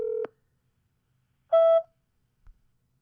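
A phone call is placed and goes to voicemail: a short tone, a pause, then a brighter beep, followed by near silence and faint clicks.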